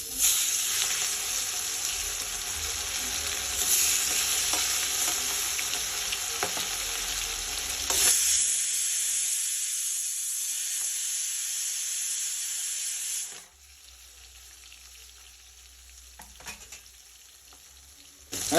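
Rupchand pomfret fries in hot oil with a loud, dense, continuous sizzle for about thirteen seconds. The sizzle then suddenly drops to a much fainter hiss, broken by a few light clicks and taps.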